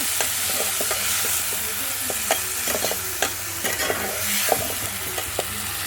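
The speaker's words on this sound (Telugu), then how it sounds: "ఆ చపాల్లోనే మళ్ళీ ఈ అలసందరకాయలు ఫ్రై చేసుకుంటున్నాను ఫ్రెండ్స్" Cowpea pods tossed and stirred with onions, green chillies and seasoning seeds in a pan over a wood fire, a steady close sizzle broken by frequent sharp scrapes and clinks of the spoon, with no voices.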